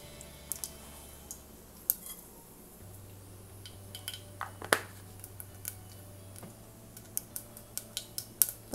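Mustard seeds and urad dal spluttering in hot oil, giving scattered sharp pops and crackles at an irregular, sparse rhythm over a quiet low hum.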